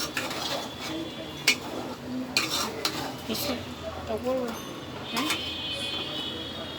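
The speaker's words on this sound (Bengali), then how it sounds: "সব মশলা দেওয়া হয়ে গেছে, এখন ভালো করে নাড়বো।" Whole cardamom, cinnamon, bay leaf and clove stirred in a pot, with scattered scraping and clinking knocks against the metal over a low sizzle, under intermittent nearby talk.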